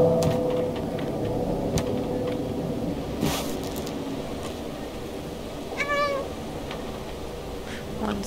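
A stray cat lets out a short, rising meow midway, close by, over a steady background hum with a few scattered clicks.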